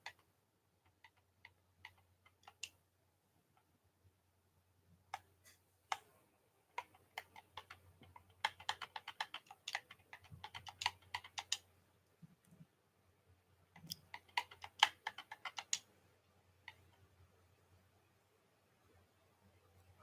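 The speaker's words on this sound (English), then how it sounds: "I'm typing in his name." Someone types on a computer keyboard, entering a name, in quiet, scattered bursts of soft clicking keystrokes separated by pauses, against a faint low hum.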